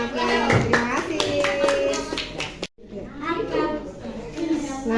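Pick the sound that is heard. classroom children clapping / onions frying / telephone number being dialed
classroom children clapping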